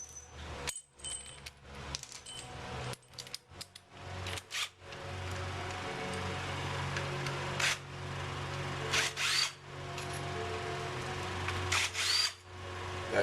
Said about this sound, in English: So I'm going to pull these 5 bolts right out now and replace the sensor and the stator in the clear cover.